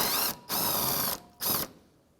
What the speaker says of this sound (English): So with a 10 millimeter socket, we're going to remove this last bolt holding the bumper in place.